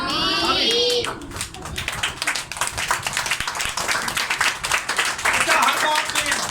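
A group of adults and children clap their hands at a Bible study gathering, a steady run of sharp claps over several seconds alongside some talking.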